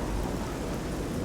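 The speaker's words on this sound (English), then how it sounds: "That actually stops the rain from being under here." Rain pours steadily in a stormy scene in the video game Oblivion, with a low rumble of thunder underneath, a dense and even wash of sound and no voices.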